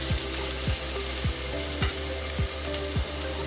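Tomato frying in a pan for junka, a loud continuous crackling sizzle with a low rhythmic thump repeating roughly every half second beneath it.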